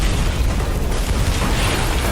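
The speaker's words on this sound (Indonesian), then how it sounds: "tiba-tiba bom di mobilnya pun meledak" A car bomb explodes in a film scene, a loud, dense blast of broadband noise with heavy low rumble sustained throughout, with no voices.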